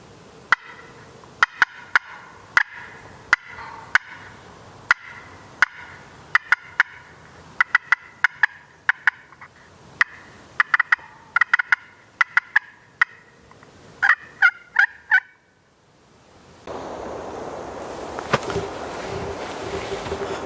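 Repeated gobbling from a wild turkey on North Florida public land during a spring turkey hunt, sharp bursts in clusters over about fifteen seconds, fairly near, ending with a faster run before wind and open ambient noise take over.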